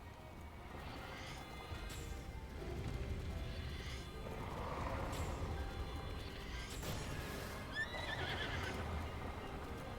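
A horse in the video game Zelda Breath of the Wild whinnies and neighs several times over clip-clopping hooves and mechanical game effects, moderately loud with no voices.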